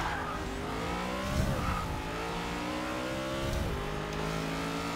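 A 2002 Chevrolet Camaro SS drag car in Forza Motorsport 6 holds its engine near redline at the start line. Harmonics sweep up and down across two surging revs, loud, steady and close, with no talk.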